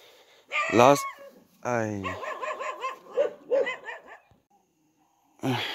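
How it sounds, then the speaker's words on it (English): A dog barks a few times in short, high yelps, mixed with a person talking nearby. "Poor dog"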